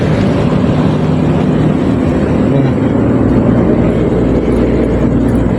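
Steady roar of passing traffic near a dike, cars rumbling by continuously and loudly close to the listener.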